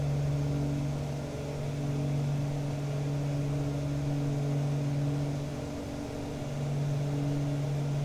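Twin piston engines of a PA31 Navajo drone in the Prepar3D flight simulator at climb power, RPM being eased back, a steady low hum with a slight pitch shift partway through.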